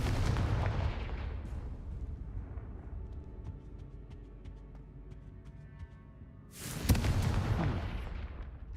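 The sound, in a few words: Confringo blasting spell explosion, Hogwarts Legacy video game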